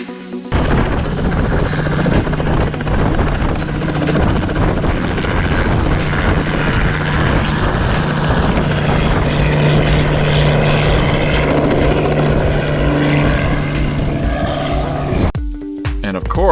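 A loud, steady tour helicopter drone over Patriots Point, Charleston, South Carolina, with a constant low rotor hum and broadband engine roar, fading out near the end; a voice talks faintly underneath.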